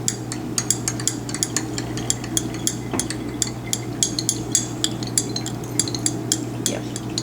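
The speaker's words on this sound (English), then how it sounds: "Let's stir it a little bit more, make sure we get all that liquid reacted there." A glass rod or spatula stirring an acetanilide reaction mixture in lab glassware gives rapid, repeated clinks and scrapes at a steady rhythm, close and fairly loud over a constant low hum, with no talking.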